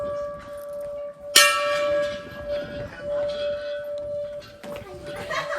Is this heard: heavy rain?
no